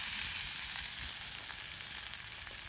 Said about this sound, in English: let's get this lamb shank browned up